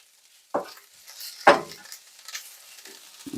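Spinach wilting in a hot pan over a stovetop, with a low sizzle and two sharp utensil knocks as it is stirred, then softer scraping and a faint clink near the end.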